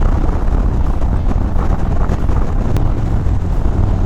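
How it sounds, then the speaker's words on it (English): Steady roaring wind buffets a motorcycle rider on backcountry roads, a loud broadband rush with low rumble that stays constant throughout, with no talking. "I think it's windy as hell on these backcountry roads"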